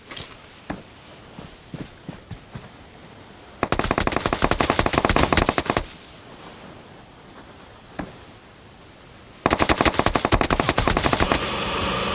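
Automatic weapon fire in the PUBG battle royale game: two long, loud sustained bursts of rapid shots, with a few scattered single shots and soft footstep-like thumps between them.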